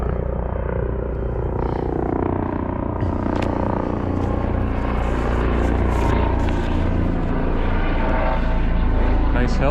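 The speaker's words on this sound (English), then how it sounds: "Nice helicopter going by right now." A helicopter passes over a city near historic Boston streets, its steady low rotor and engine rumble filling the air continuously and loudly. Talk runs over the drone.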